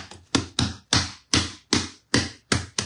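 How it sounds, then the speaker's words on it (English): Pizza dough being knocked down by hand, eight firm slaps or thumps in a steady rhythm, close and clear with no talking. "So we want to knock the air out of this."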